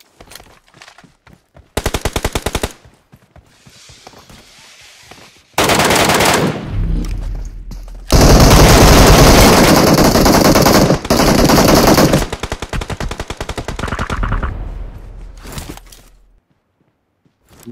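Gunfire in a shooting video game comes as loud, rapid automatic bursts and single shots, with long sustained strings of fire interrupted by short gaps and a few quieter shots.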